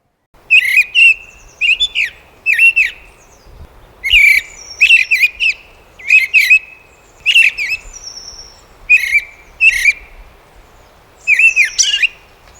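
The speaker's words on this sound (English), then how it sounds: "Take a listen to the missel thrush." A mistle thrush sings on a UK smallholding at dawn, with short fluty phrases repeated after brief pauses, clear and fairly near.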